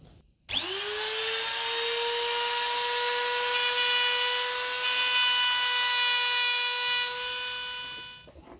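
A power tool whines at a steady high pitch for about seven seconds while cutting a guitar body's wooden neck pocket, loud and close, then winds down at the end.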